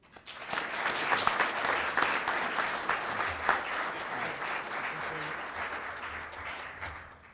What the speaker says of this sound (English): So please help me give him a round of applause for his award of the Claude A. Jones Award.